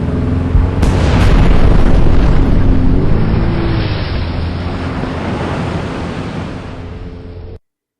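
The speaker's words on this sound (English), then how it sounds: "our heroine has escaped from the ship of death on a jet ski into the ocean" Loud ocean surf and rushing water with a booming, windy wash from a jet ski escaping across the sea in the video game Dead Sea II: Mutation, steady for several seconds before cutting off abruptly.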